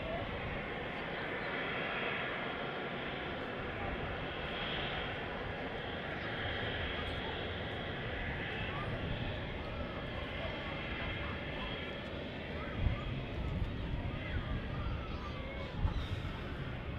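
A Ryanair airliner passes at Manchester Airport as a steady, fairly faint jet roar that continues throughout, with occasional light bumps and talk over it.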